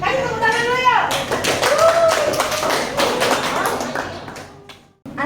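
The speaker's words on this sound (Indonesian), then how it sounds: "Kasih tepuk tangan dulu ya." Classmates clap for a group about to present in a school classroom during a teaching performance assessment, with quick close-up claps for a few seconds and voices talking over them before the sound fades.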